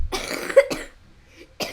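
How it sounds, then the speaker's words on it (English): A sick man gives two or three sharp, close coughs with a throat-clearing rasp, separated by a short quiet gap and a final burst at the end. "I'm sick right now, so I'm gonna keep coughing a little."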